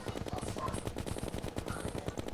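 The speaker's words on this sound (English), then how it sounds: "I like shooting snowmen because it totally works very well." Rapid gunfire from shooting snowmen in the video game Terraria, a dense, steady burst of shots running the whole time at even loudness, with faint game chimes above.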